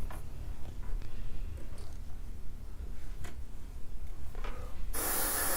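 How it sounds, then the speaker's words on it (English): An airbrush sprays paint along an edge during UV body painting, a short, bright burst of hiss at the end following quieter rustling handling noise. "I want to just kind of fuzz it up using our airbrush along the edge"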